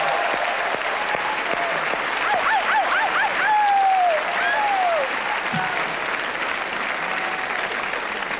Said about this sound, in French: Vous pouvez applaudir toutes ces questions.